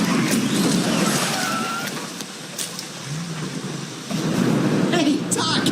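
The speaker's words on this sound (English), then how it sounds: "It's pouring rain out here." Pouring rain and rolling thunder fill the scene, a loud, continuous downpour with deep rumbles that swell and fade, stronger again toward the end, with faint voices mixed in.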